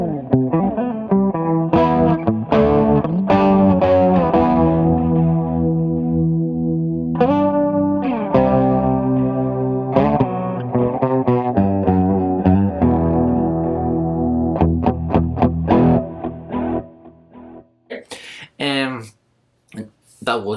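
Distorted metal riffing on a Schecter Banshee GT FR electric guitar runs loud and dense with chorus-like shimmer, then drops into a few sparse, separate stabs near the end.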